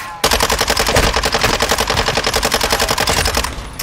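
A RAAL machine gun firing in Call of Duty DMZ: one long, unbroken stream of rapid, evenly spaced heavy shots, loud and close, running for several seconds before stopping abruptly, with no speech over it.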